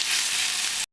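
Ginger frying in a pan for a fish dorade and pork belly dish, a steady loud broadband sizzle that holds for nearly a second before cutting off abruptly.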